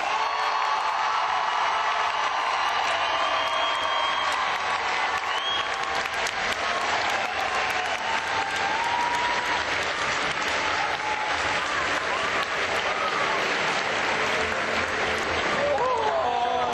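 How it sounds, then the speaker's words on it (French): A conference audience gives a warm round of applause welcoming actress Amanda Tapping, dense sustained clapping and crowd noise filling the hall, with some cheering mixed in. "applaudissez très chaleureusement Madame Amanda Tapping"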